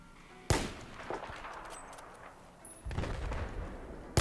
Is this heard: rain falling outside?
no